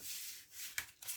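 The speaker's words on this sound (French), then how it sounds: "Je mets 9 cartes." Tarot cards slid and set down on a table for a nine-card spread, giving a soft papery rub with two brief sharper slaps near the end, quiet and close.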